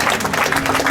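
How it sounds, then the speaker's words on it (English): A church congregation claps together during a sermon, a steady dense wash of hand claps lasting about a second, fairly loud and close, with a low hum and faint voices mixed underneath. "Oh, give a mighty clap for yourself."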